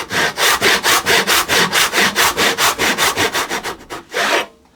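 Hand saw cutting a wooden corner for a mitred half-lap joint, with about twenty loud, even rasping strokes in steady rhythm that slow and stop near the end.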